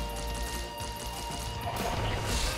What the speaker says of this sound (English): And the fireworks too, my god.